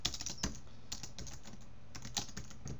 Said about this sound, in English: you can just go ahead and type in.